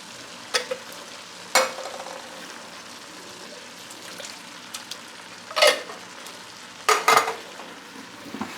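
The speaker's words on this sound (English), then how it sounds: "Let's give all that a stir, get all that incorporated." Brunswick stew in a large pot with fire-roasted diced tomatoes being stirred, a soft simmering sizzle underneath with several distinct scraping sweeps of a spoon against the pot at irregular intervals.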